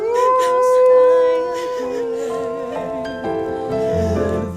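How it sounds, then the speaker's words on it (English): Torgal, the dog in the game Final Fantasy XVI, howls in long, mournful, wavering tones, loud and close, with a sobbing human cry joining in underneath. "the howling Torgal is so sad."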